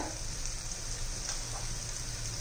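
Onion, garlic, turmeric, coriander and cumin powder and homemade masala sauté in hot oil for a bitter gourd dish, a faint, even, steady hiss with soft crackles.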